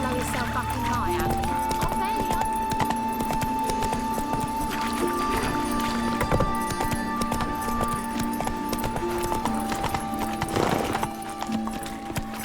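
Horse galloping in The Witcher 3, with steady rhythmic clip-clop hoofbeats running throughout alongside game music and a character's voice talking over it.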